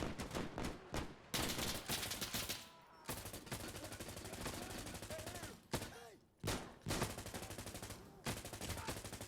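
Repeated close automatic gunfire in the video game Insurgency Sandstorm, long rapid bursts broken by short pauses, with loud sharp reports.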